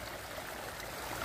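A stream flows steadily on Budharaja hill, a constant close rush of water with no pauses or voices.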